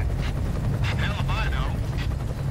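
Helicopter in the video game Gears of War, a continuous low rotor rumble and throbbing drone filling the whole moment, with faint mechanical chatter and tonal effects layered over it.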